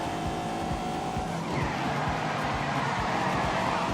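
A big sports car in The Grand Tour Game accelerates hard, its engine roaring steadily with a tire squeal and road noise running close and loud throughout.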